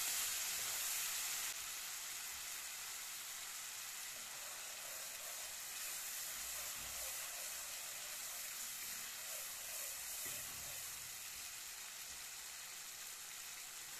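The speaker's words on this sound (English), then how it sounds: "Let it saute a bit." Jerk marinade with pimento leaves sautés in hot oil over high heat, a steady soft sizzle and hiss running throughout with a brief louder burst at the start, heard alone without voices.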